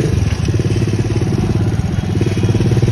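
A dirt bike engine runs loud and close in a steady, rough, pulsing rumble that carries on without a break.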